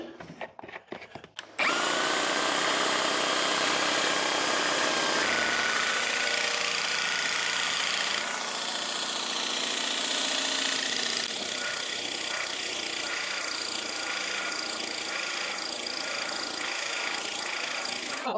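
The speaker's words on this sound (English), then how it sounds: "I'm committed to sticking it out and painting this entire room with this paint sprayer" Lefondat 2-in-1 airless paint sprayer running steadily as it sprays a masked-off wall indoors, a loud continuous motorized whine and hiss that holds for most of the stretch after a brief start.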